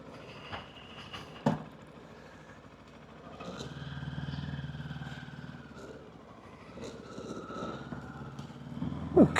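A 2026 CF Moto 700MT motorcycle engine burbles at a steady idle. The low rumble is moderately loud and swells slightly midway, with a few sharp clicks around it.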